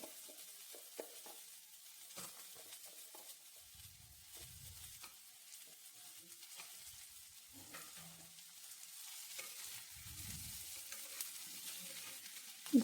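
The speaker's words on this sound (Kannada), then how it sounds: "ಇದು ಸ್ವಲ್ಪ ನೀಟಾಗಿ ಇನ್ನೂ ಸ್ವಲ್ಪ ಫ್ರೈ ಮಾಡ್ಕೊಳ್ತೀನಿ ಕುಂಬಳಕಾಯನ್ನು ಎಣ್ಣೆಯಲ್ಲಿ." Chopped pumpkin frying in oil with onions gives a quiet, low crackle broken by intermittent soft clacks and thumps of stirring in the pan.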